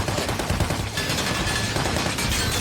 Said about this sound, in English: In the midst of the intense gunfire, Falcon was still safe and sound, but a bull